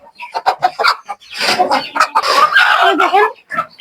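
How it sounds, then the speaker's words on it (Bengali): Native country hens that have just laid eggs cluck close by on a home rooftop, giving repeated loud, uneven bursts of clucking and squawks with short gaps between them. "দেখো কতগুলো মুরগি ডিম পেরেছে মুরগিতে"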